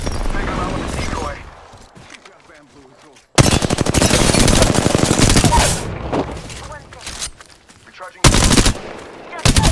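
Rapid bursts of automatic gunfire in Apex Legends, loud and near, crackle in dense volleys after a quieter opening, with short pauses between salvos and a voice talking amid the shooting.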